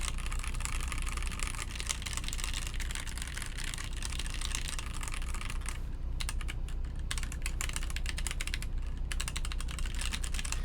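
Typing on a TMO50v2 keyboard fitted with Marshmallow switches: a steady, close run of rapid clacky keystrokes that continues throughout with no pauses, with no voices.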